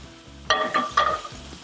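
Garlic sizzles in oil in a pan over low heat, a soft crackling fry with a few louder bursts as the pan is swirled, close and alone without talk.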